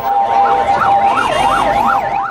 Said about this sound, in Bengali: আইসিইউ এর সুবিধা সম্বলিত অত্যাধুনিক অ্যাম্বুলেন্সটি রওনা হয়